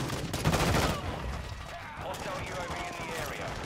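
Rapid gunfire from explosive rounds in a video game, a dense crackling burst that is loudest early on and then continues more thinly, mixed with scattered impacts and background game noise.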